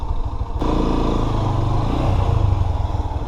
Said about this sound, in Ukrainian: Красный моцик їде к нам